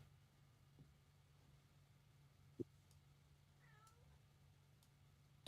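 A cat gives a short, faint meow in a quiet room over a low hum, with a couple of small clicks before it and a louder knock at the end.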